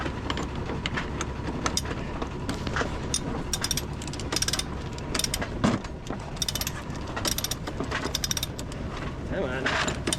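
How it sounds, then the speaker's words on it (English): A sailboat winch being cranked by a lone sailor, a rapid clicking ratchet with repeated metallic pawl ticks and grinding gear noise, close and continuous under wind. "I'm gonna crank it up the rest of the way because it ain't that strong anymore"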